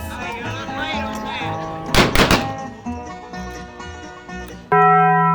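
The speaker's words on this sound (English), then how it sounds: "I'm dodging your bullets." Several sharp gunshot-like bangs in a Western showdown, a quick cluster of loud cracks amid music and background sound, followed by a sustained tone.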